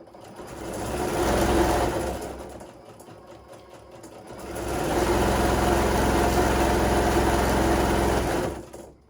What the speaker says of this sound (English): Almost talked to you while the sewing machine was going